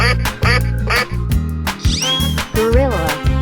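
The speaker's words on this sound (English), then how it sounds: "Duck." Duck quacks from a 3D animal slide game, several short nasal calls layered over pulsing game music, loud and up front.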